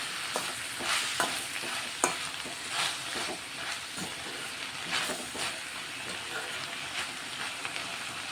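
Salted cabbage frying in a pan sizzles steadily while a utensil stirs and scrapes through it in a loose, uneven rhythm of soft clatters, close by and without talk.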